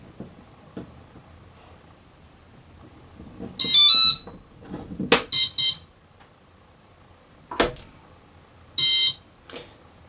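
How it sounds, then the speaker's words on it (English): Loud electronic beeps from a multirotor motor during ESC throttle-range calibration sound in a few short bursts, some doubled, irregularly spaced, with quiet clicks and handling noise between them. "Your motor is going to have a sequence of beeps"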